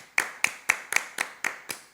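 About eight sharp hand claps in a steady, even rhythm, close and clear, with no voices over them, given by people applauding a commemoration during a lighthearted Catalan-language talk show.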